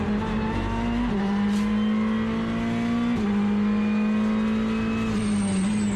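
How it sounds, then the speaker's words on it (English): Race car brakes in Assetto Corsa Competizione at Zandvoort, a loud steady tonal whine over continuous engine drone, dipping and shifting in pitch a few times as the car slows. "That's all brakes. That's not the turbo. That is the brakes."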